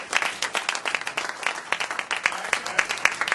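An audience claps for a DJ in a short burst of dense, steady applause that is fairly close and continuous, with some crowd voices mixed in.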